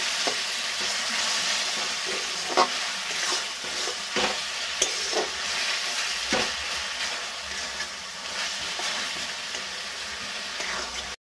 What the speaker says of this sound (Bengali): দিয়ে দিলাম আদা রসুনের পেস্ট। এটাও একইভাবে কষিয়ে নেব